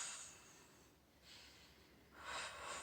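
Breathing during a floor exercise, two slow, audible breaths in and out, airy and close but quiet, separated by a short pause with no talk.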